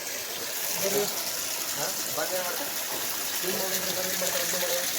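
Steady gushing water runs throughout, like a tank filling, with voices talking over it.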